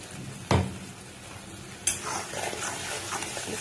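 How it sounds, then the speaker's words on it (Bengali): Cashew and melon-seed paste for white paneer frying in a pan, a low sizzle punctuated by two loud stirring scrapes and knocks of a spoon against the pan. "একটু নাড়াচাড়া করে নেব মানে একটু হালকা করে এটা ফ্রাই করে নেব"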